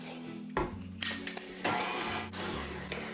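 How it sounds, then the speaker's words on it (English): An electric mixer whirs through lemon loaf batter as flour is worked into the wet ingredients, starting and stopping in short bursts with a steady motor hum between them. "add half the flour mixture to the wet ingredients and just give it a quick mix"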